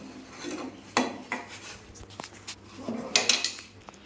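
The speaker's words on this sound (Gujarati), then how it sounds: "વાસણ મારા માટે રહી ગયા હતા એ હું કરું છું." Dishes clatter and scrape close by, with scattered clinks of cutlery and pots amid the sound of washing, in a few irregular bursts.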